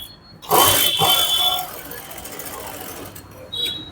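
A sewing machine runs in a short close burst while stitching a puff sleeve, followed by quieter handling, with a brief second whir near the end.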